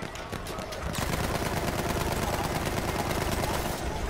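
Loud, dense gunfire from a video game battle, with a heavy burst of shots and continuous firing packed together for several seconds; a shotgun is involved in the exchange.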